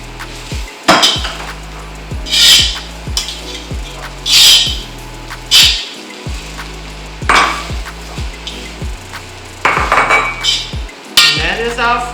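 Pork fried rice stirred in a wok, with repeated metallic scrapes and clanks of a utensil against the pan in irregular bursts over a steady low sizzle.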